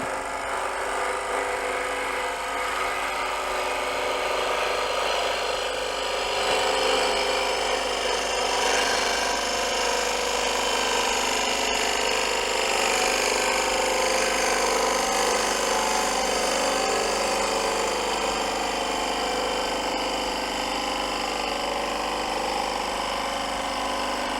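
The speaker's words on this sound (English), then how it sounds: "I'm going to go to a 1/2 inch bowl gouge, and we're just going to refine that shape just a little bit." A half-inch bowl gouge cuts a wooden bowl spinning on a lathe, refining its shape: a steady, loud broadband whir of tool against wood over motor hum, continuous for the whole stretch with no talk.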